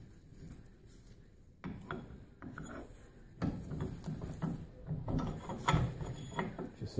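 A threaded rod press cranked down on a car control arm bushing gives a run of close, irregular metallic clicks and ratcheting turns, growing busier toward the end, with no speech over it.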